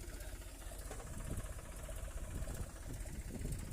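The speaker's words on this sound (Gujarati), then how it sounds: "આ ટ્રેક્ટર ફસાય છે, જોઈ લો" A tractor engine running while the tractor is stuck in a river, a steady low rumbling chug with a rough knocking pulse that holds evenly throughout without pause.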